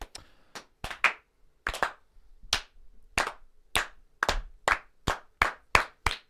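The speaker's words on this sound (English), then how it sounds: "All right, good slow clap for Jägermeister" A deliberate slow clap rings out at a sports talk show, about a dozen sharp, distinct hand claps at a steady unhurried pace, close and clear, with silence between each strike.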